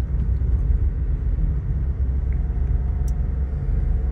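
A car on a highway during a first driving lesson, heard from inside as a steady low road rumble and engine hum with no speech over it.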